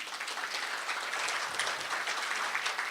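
A small audience claps for itself at a talk, a steady patter of many hands at moderate volume, heard from a slight distance.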